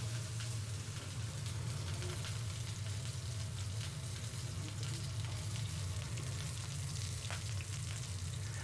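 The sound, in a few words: stir frying red peppers with ginger and garlic in a pan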